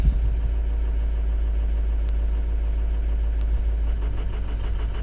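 Car engine idling steadily just after a cold start, a loud, close, low rumble holding even throughout, with a couple of faint ticks on top.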